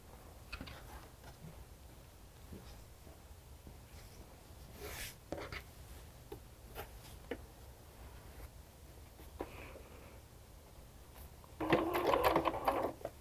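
A sewing machine stitches around the perimeter of a star appliqué pillow with a half-inch seam allowance, a quiet, steady running hum punctuated by small ticks and clicks, with a louder burst near the end.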